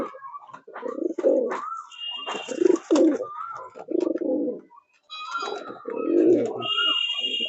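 Andhra pigeons, aggressive breeding birds in a loft, coo repeatedly in low, throaty bursts, close by, with a few higher squeaky tones mixed in between the calls.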